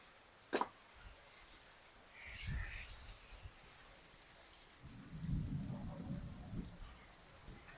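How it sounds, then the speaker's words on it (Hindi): Heavy rain pours steadily outside while low thunder rumbles twice in the distance, faint and spread out, with a brief sharp knock near the start. "बारिश बहुत तेज है"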